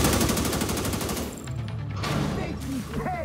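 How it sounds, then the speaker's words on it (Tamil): A grenade launched in Tom Clancy's The Division 2 bursts out as a loud, dense volley of gunfire and blasts, firing continuously with brief pitched tones and a voice sliding in near the end. "launching grenade"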